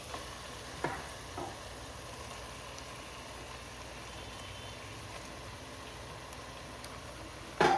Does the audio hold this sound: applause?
no